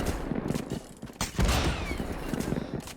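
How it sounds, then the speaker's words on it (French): Small gunfire pops from the legendary Gunzo skin in a video game: a few quick, crackling firecracker-like bursts close up, over a low background of game noise. "Ça fait des petits pétards à chaque fois, un petit bruit."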